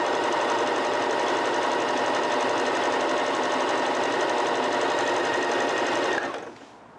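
A sewing machine stitches continuously at a steady rapid rhythm, a loud close mechanical whir and clatter that runs unbroken for several seconds before stopping abruptly near the end, with no talking.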